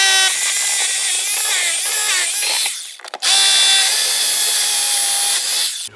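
A power drill bores into a concrete base, whining loudly and steadily for about three seconds, cutting out briefly, then starting again for another long run.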